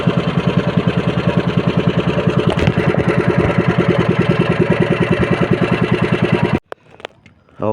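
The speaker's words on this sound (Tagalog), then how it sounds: "sa aming bangkang di motor" A motorized outrigger boat engine idles with a steady, loud rapid chugging beat while docking at a fish corral, then cuts off abruptly near the end, leaving quiet.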